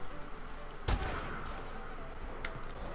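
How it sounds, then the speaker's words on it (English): Gunfire in Call of Duty against easy bots, a sharp shot near the start and a fainter one later, over steady background game noise without talking. "this is that gun where you gotta aim and shoot"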